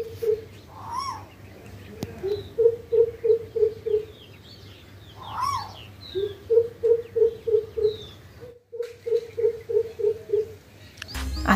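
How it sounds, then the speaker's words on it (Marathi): Greater coucal calling at a farm in spring, a deep resonant series of hooting notes repeated in three long even runs, fairly close, with faint birdsong and a rooster-like call behind. "आता जो जड आवाज ऐकला ना तो भारद्वाज पक्ष्याचा"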